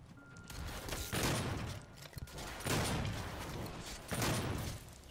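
Video game gunfire in Doom: three loud bursts of shots and blasts, evenly spaced, over a continuous backdrop of game sound, with no talking.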